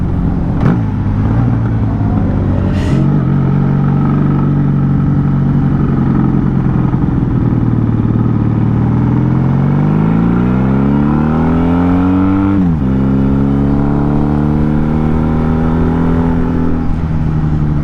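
A motorcycle engine revs loudly and close during a ride, its pitch climbing steadily, dropping sharply at a gear shift, then rising again in one continuous run.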